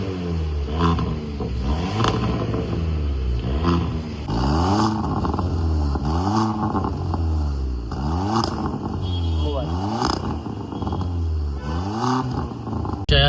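A VW Polo GT fitted with a valvetronic exhaust revs repeatedly, loud rising and falling engine bursts close by, with voices talking over the noise.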